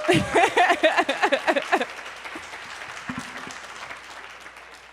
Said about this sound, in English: Can give them another round of applause.